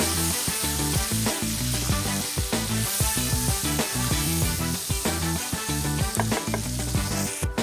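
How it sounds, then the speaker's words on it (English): All-purpose flour whisked into melted butter in a pan, a loud, steady sizzle with the rapid scrape of the whisk running throughout. "Once your butter has melted, we're going to go ahead and sprinkle in our all-purpose flour. And you want to whisk that together"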